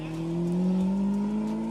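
A large sports car engine revs in a steady, loud drone, its pitch climbing slightly as it holds, with no voices over it.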